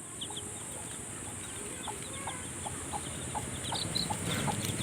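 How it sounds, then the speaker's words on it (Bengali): A mother hen with four chicks gives repeated soft clucks against a steady outdoor village background, the calls short and evenly spaced, growing slightly louder toward the end. "দেখো আমি যাচ্ছি বলে পেছনে লুকোচ্ছে মুরগি ছানাগুলোকে নিয়ে"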